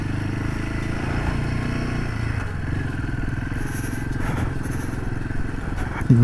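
A motorcycle rides along a snowy mountain road in Ladakh, its engine droning steadily and loudly up close, with wind rush and faint clatter over the rough surface.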